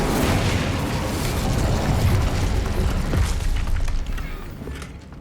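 Incendio fire spell cast in Hogwarts Legacy, a loud sustained roaring burst of flame with heavy low rumble that holds for several seconds and then eases off.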